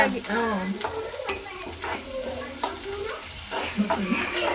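Mushrooms for a pepper dry being fried and stirred until golden brown: a continuous close sizzle broken by repeated scraping strokes, with faint voices in the background.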